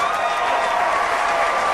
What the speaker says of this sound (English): Do that again. The clapping.